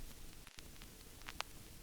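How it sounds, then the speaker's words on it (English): Vinyl crackle effect layer on a lo-fi sample flip: faint steady hiss with scattered soft ticks and a couple of sharper pops near the end, very quiet and alone. "and lastly just the vinyl effects."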